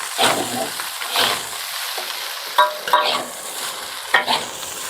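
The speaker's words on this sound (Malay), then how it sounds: "Kita gaul nasi goreng kita." Spoon scraping and stirring kimchi fried rice through a hot pan in a few distinct strokes, with a steady sizzle of frying underneath.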